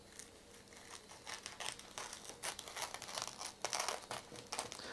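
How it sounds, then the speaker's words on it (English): Scissors cutting through tape wrapped on a firework cake, producing quiet crinkling and snipping with short crackly bursts that grow a little louder toward the end, close and without talk. "I like to cut it and like nice clean cuts."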